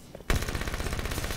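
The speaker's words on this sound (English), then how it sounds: "Putting that SMG to work." SMG fire in a first-person shooter video game, a loud sustained rapid burst of automatic shots starting abruptly after a brief quiet moment, close and continuous with no talk.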